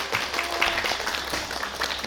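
Applause from an audience at an alumni reunion event welcoming a director on stage, a steady close patter of many hands clapping throughout.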